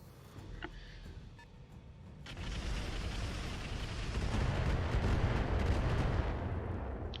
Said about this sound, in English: Okay, so indirect fire missing.